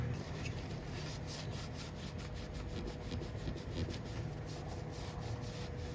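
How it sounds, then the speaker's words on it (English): A rag scrubs carbon deposits off the perimeter of a Harley cylinder head in quick, regular back-and-forth strokes, a faint, close, rhythmic scuffing that continues steadily throughout. "I'm gonna get a rag and start wiping down the perimeter here, getting all that carbon off."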